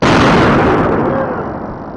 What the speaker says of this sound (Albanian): specialistët kryen një shpërthim të kontrolluar